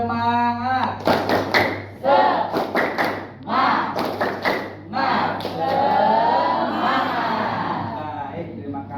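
A classroom of students performs the tepuk semangat routine: sharp rhythmic clap-and-thump bursts with shouted group chanting, then a teacher speaks briefly at the end.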